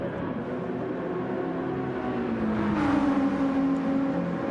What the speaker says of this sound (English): There we go, down the back straight in that BMW M6.